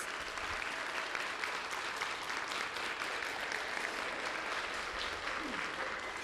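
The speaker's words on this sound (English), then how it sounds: "let's give our spellers and alternates a huge round of applause" An audience at a spelling bee applauds the spellers and alternates, a sustained, even wash of many hands clapping at moderate distance with no break.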